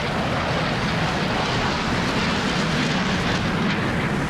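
McDonnell Douglas F-15C Eagle twin-engine jet roaring past with afterburners lit during an air show over Louisville, a loud, continuous broadband rumble and roar filling the whole span without letup.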